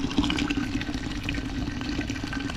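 Fresh maple syrup pours steadily off an evaporator pan, a continuous liquid rush with faint splashing that holds even for nearly three seconds, close and moderately loud with no talking.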